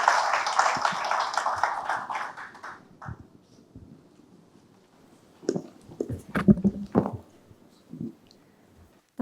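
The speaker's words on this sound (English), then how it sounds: "Round of applause for everyone, ladies and gentlemen, please." Audience applause for a founder panel at a healthtech event, a burst of clapping at the start that fades over about three seconds, followed by scattered thumps and handling noises.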